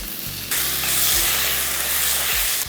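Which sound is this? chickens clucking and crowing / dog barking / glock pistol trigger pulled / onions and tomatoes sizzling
onions and tomatoes sizzling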